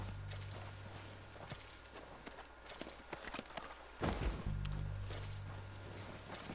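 Horse hooves clip-clopping at a walk in the video game Red Dead Redemption, soft repeated steps under faint ambient game noise with a brief louder thump midway.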